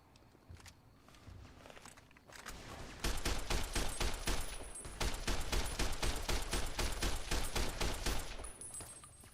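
Rapid service rifle gunfire in the video game Fallout New Vegas, a quiet stretch followed by dense, loud repeated shots in fast bursts lasting several seconds, close up with no talk.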